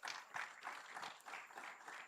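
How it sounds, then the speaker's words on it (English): An audience applauds at the closing ceremony of a youth capital markets forum, with faint, steady clapping from a crowd heard from some distance. "A round of applause for Eric."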